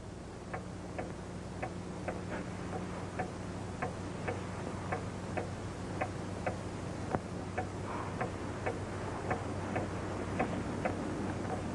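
A clock ticks steadily and evenly, about twice a second, fairly close and clear over a low background hum, with no talking.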